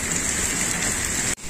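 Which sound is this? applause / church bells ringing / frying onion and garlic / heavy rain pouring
heavy rain pouring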